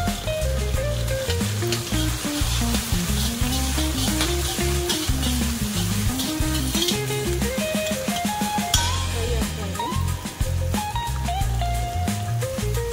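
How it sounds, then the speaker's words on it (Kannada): Ginger paste fries in a pan with a steady sizzle, partly buried under loud melodic background music that plays throughout. "ಈರುಳ್ಳಿ ಯೂಸ್ ಮಾಡದೇ ಇರೋದ್ರಿಂದ ಬರೀ ಶುಂಠಿ ಪೇಸ್ಟ್ ಹಾಕ್ತಾ ಇದ್ದೀವಿ."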